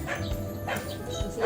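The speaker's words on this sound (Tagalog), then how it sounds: "Ang mga aso naman ngayon." Dogs barking and whimpering in the background of an outdoor backyard smokehouse setup for smoking fish, short yips scattered through steady low background noise.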